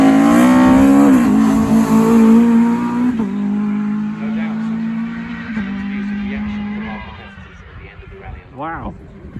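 A Triumph TR7 rally car, car 46, races along a stage rally course, its engine loud and revving, then easing off as it passes and fades, with a voice talking over the top.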